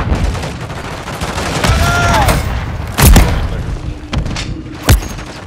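Gunfire rings out in Call of Duty: Modern Warfare III: a sustained burst of shots followed by a few sharp, loud single cracks and thuds, close and punchy, with a faint voice in the background.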